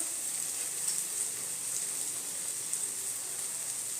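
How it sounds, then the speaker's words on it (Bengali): Turmeric and other dry ground spices hit hot oil over softened tomatoes for a vegetable tadka dal, making a soft, even sizzle that holds steady without pause. "এবার আমি ড্রাই স্পাইসেসগুলো এর মধ্যে দিয়ে দেব। হাফ চামচ হলুদ গুঁড়ো"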